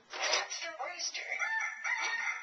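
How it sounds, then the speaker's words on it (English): A toy rooster plays a recorded cock-a-doodle-doo, a tinny, fairly quiet electronic crow lasting about two seconds indoors. "That's the rooster."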